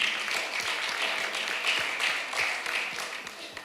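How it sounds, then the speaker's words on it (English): Audience at a UK-Ghana business forum applauding, a steady mid-loud patter of many hands clapping with individual claps standing out, continuing evenly throughout. "A big round of applause indeed."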